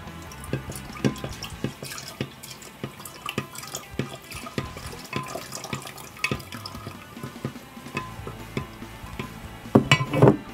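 Cooled lye water is poured into whipping cream for homemade milk soap, giving soft irregular drips and liquid splashes, with a brief louder splash near the end.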